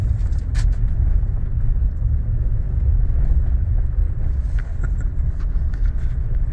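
A Nissan Serena's engine rumbles steadily with the throttle released, a loud, continuous low drone of road and engine noise from inside the moving car, with no voices.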